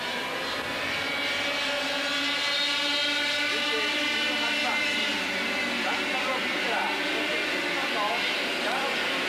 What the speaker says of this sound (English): Very fast through these S's in these Formula Super A carts, 28 horsepower.